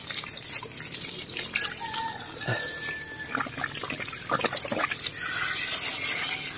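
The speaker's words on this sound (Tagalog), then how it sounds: "Ang lakas ng tubig" Water rushes strongly from a pipe after a fitting is reconnected, a steady hissing flow with clanks and squeaky mechanical sounds over it, the rush swelling louder toward the end.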